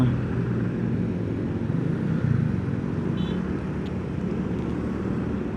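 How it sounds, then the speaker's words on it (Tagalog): Steady wash of city street traffic near malls in Metro Manila, cars and motorcycles passing in a continuous, even roar with no clear individual pass-bys. "Grabe, traffic na dito"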